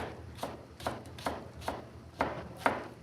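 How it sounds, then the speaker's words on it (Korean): A knife chops green onion (daepa) into 1–2 cm rounds on a board, six crisp evenly spaced strokes about half a second apart, close and moderately loud with no talk. "대파는 약간 한 1, 2cm 정도로 이렇게 송송송 썰어주세요"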